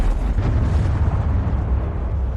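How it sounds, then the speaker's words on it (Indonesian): A bomb explodes among crowds of refugees, a loud, sustained rumbling roar with heavy low-end weight that continues unbroken throughout, with no voices present. "bom sudah lebih dulu meledak dan membantai banyak pengungsi"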